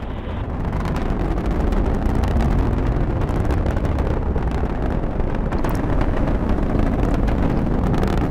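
A rocket carrying the Cygnus spacecraft on the CRS Orb-4 mission to the International Space Station roars during ascent, a dense, loud, continuous broadband rumble with crackling texture that holds steady throughout.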